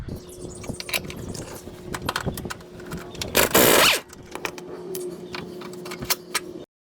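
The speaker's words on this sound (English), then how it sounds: "I'm going to be unscrewing this bolt" Work on the control arm bolt of a 2010 Subaru Outback, with close metallic ratcheting clicks and clinks in an uneven rhythm and one loud burst of harsh metallic noise midway, then quieter tool sounds until a sudden stop; no one speaks.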